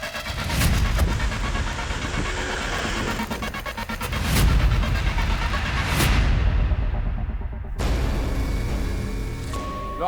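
A motorbike engine roars loudly during a chase, surging and fading with sharp bursts and a sudden cutoff near the end, with no talking.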